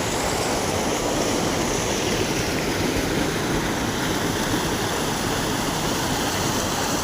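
Jogini waterfall near Manali pours water in a steady, dense roar that fills the whole stretch without pause, loud and unbroken, with no voices over it.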